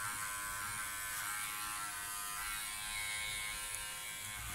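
Powertec TR 1700 electric hair clipper running against the grain during a home haircut, a steady close buzzing drone that holds even throughout, with no speech.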